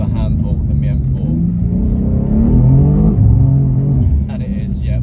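A rear-wheel-drive BMW M2 launches and pulls away, its engine rumbling and rising in pitch as it accelerates, heard from inside the car with voices talking over it.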